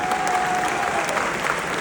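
A crowd at a Khabib Nurmagomedov event breaks into a brief burst of applause, loud, dense clapping that holds steady without pause through the short moment.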